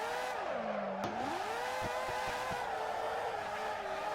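Drifting car in Assetto Corsa skidding after a clutch kick, tires squealing in a steady sliding tone with engine revs rising and dipping, continuous and close, with a few short thumps partway through.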